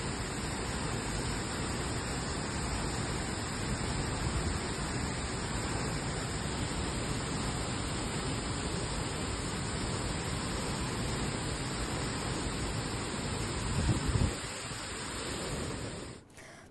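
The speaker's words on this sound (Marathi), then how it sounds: "बुलढाण्यामध्ये वादळी वाऱ्यासह मुसळधार पाऊस बरसतोय" Heavy rain lashes down with strong gusting wind during a storm in Buldhana, Maharashtra, a dense, steady roar that holds for about sixteen seconds and swells briefly near the end, with no voices.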